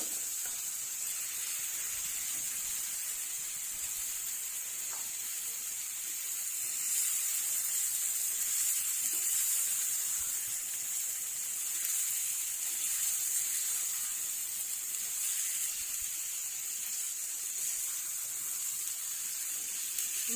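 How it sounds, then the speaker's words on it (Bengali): Pangas fish pieces fry in a cooked-down spice paste, giving a faint, continuous, even hiss that stays steady with no stirring or voices. "ভালোভাবে মাছ এবং এই মশলাটা ভালোভাবে ভেজে নেব।"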